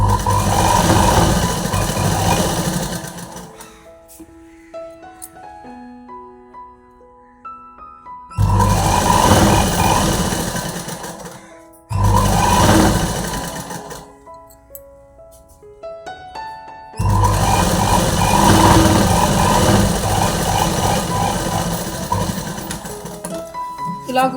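A sewing machine stitches a blouse seam in several loud bursts of fast, rattling stitching. Someone speaks in the quieter gaps between runs.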